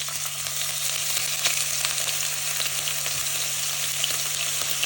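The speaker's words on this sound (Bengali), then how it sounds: "তেল ঠিকমতো গরম হলে যে একটা সুন্দর আওয়াজ আসে, ওই আওয়াজটা শুনে বোঝা যায় যে ঠিকমতো গরম হয়েছে" Beef steak sears in hot olive oil in a pan, producing a loud, even, unbroken sizzle with a faint steady hum underneath and light crackles scattered through it.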